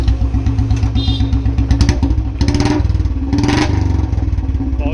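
Royal Enfield BS4 Bullet 350 fitted with a loud free-flow L-bend exhaust pipe, revving hard with a deep, rapid thumping beat that rises and falls in bursts, close and loud with no talk.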